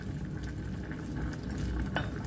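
A pot of Thai beef curry with dill bubbling at a steady boil, a dense close simmering texture with a faint utensil clink near the end.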